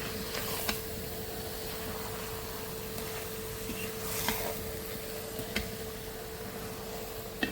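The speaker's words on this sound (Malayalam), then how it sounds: "ഇനി നന്നായിട്ട് ഇതൊന്ന് ഇളക്കി കൊടുക്കാം നമുക്ക്." Kappa biriyani stirred in a pot, soft scraping and clacking strokes at irregular intervals over a low, steady background hum.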